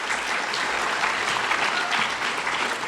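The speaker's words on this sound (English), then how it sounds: "So give yourself a round of applause for that." An audience at a Veterans Day ceremony gives a full, even round of applause, many hands clapping together at a constant level with no voices over it.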